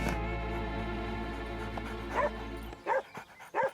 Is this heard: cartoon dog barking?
yes